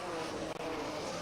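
Brabham BT11 and BT24 Formula One race cars from the 1967 season at Clermont-Ferrand, a steady, loud, buzzing engine drone at high revs with no break.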